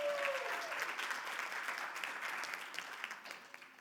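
Soft, scattered clapping from a town hall audience at a legislative forum, fairly distant and thinning gradually toward the end.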